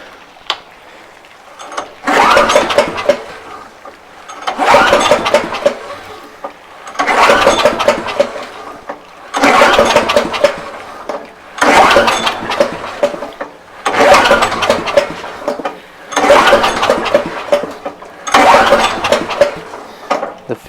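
Bear Cat wood chipper engine cranking repeatedly without catching, eight loud, evenly spaced bursts of starter churning separated by short silences, no voices.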